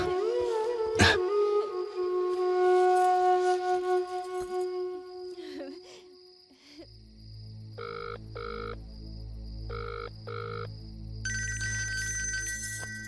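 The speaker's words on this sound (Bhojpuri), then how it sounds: "ए जी भैया के फोन।" A mobile phone rings loudly with an electronic melodic ringtone, repeating short tonal phrases in a steady pattern, with no one talking.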